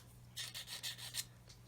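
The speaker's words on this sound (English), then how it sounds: "you could use this sanding stick in here, but you can hear it as it goes over that folded area" A flexible sanding stick rubs back and forth over a folded area, giving about five quick, faint rasping strokes in a quiet setting.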